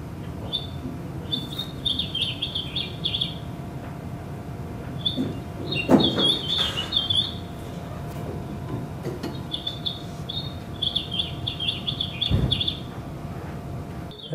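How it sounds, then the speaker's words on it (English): A house finch sings bright, warbling phrases in several bursts separated by pauses, over low background rumble and a couple of soft thumps. "Here's the house finch song."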